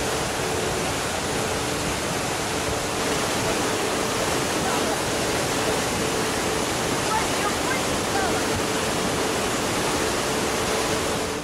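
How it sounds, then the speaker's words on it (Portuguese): A fierce torrent of floodwater in the Altai mountains, released when heavy rain overfilled a local lake and burst its barrier, roars continuously as a loud, steady broadband rush with no breaks. "esta corrente de água feroz que os turistas encontraram nas montanhas de Altai"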